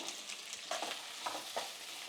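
Onions and ginger frying in a pan, a soft steady sizzle with a few brief stirring scrapes, close and fairly quiet, no voices.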